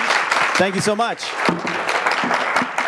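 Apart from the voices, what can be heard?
audience applause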